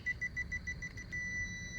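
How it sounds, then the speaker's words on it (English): A Power Probe ECT3000 short finder gives a quick run of evenly spaced, high-pitched beeps that merge into one solid tone, clear and close over a faint low rumble. "and it's gonna beep. You want it to beep as fast as possible."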